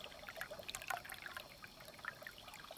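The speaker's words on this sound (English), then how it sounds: "we still have water flowing out of the pipe" Water trickles steadily from the outlet pipe of a hand-dug, solar-pumped well near sunset, a faint continuous splashing dribble with small bright droplet spatters and no voices.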